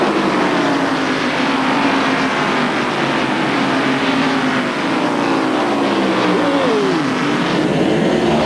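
A field of NASCAR stock cars roars past at the green flag of the 1993 First Union 400, a loud, continuous wash of engine noise with passing engine pitches sweeping downward as cars go by.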